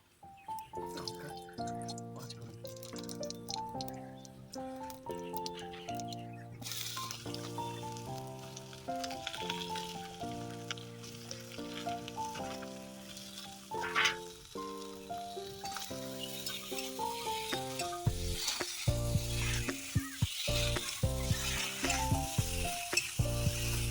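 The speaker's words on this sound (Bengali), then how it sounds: "এরপর উনুনে কড়াই বসিয়ে তাতে সামান্য কিছুটা তেল পাঁচ ফোড়ন দিয়ে আলু আর বেগুনগুলোকে ভেজে নেবে" Potatoes and eggplant fry in a little oil with panch phoron in a wok on the stove, making a steady, close sizzle that starts partway through and grows louder beneath tuneful background music.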